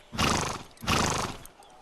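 Two loud, close horse neighs, each a broad rasping whinny of about half a second, follow one another with a short gap in a stable setting, with no voices over them.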